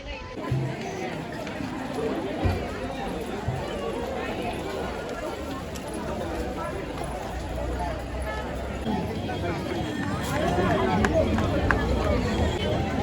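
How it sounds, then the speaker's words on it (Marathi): A dense crowd at the Akkalkot Swami Samarth temple fills the space with steady babble and shuffling movement, close and continuous, while a nearby person speaks over it. "इथे एवढी गर्दी आहे ना"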